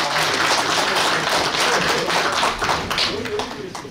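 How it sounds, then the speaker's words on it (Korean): Applause and clapping from a crowd at a political rally, a dense steady patter that carries on for several seconds and tapers slightly toward the end, with voices mixed in. "큰 박수 부탁드립니다."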